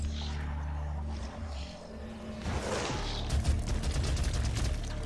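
Heavy weapon fire in the video game DOOM, a dense stream of shots layered over a droning low ambient hum, with a whooshing burst partway through and no speech.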